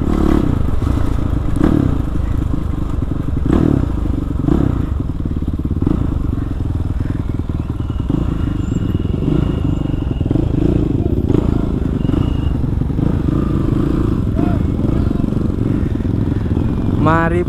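A Kawasaki KLX 450cc supermoto engine drones steadily during a test ride, loud and close, with clatter, scraping and wind rush mixed in and occasional revving.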